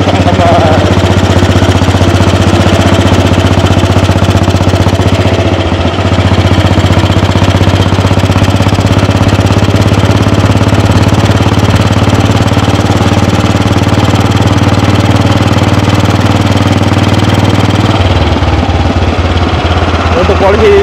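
A 1948 AJS 500 custom motorcycle runs steadily on a test ride, its old British single-cylinder engine giving a loud, close, continuous thumping drone that drops in pitch briefly near the end, with someone talking over it.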